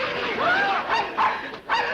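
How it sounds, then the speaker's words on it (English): A dog barks several times in quick succession, loud and close, with yipping, whining tones between barks. "That vicious dog is going to attack me."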